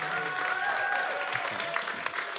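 An audience at a local prize-giving ceremony in Morbihan applauds the winners, giving a dense, sustained wash of clapping in a hall, with faint tonal hum in the background.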